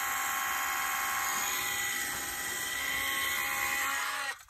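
A Unistar 5-in-1 power handy kit, a retro fan, flashlight and vacuum unit, runs with a harsh, steady high-pitched whine and buzz, close and unbroken until it cuts off abruptly at the end.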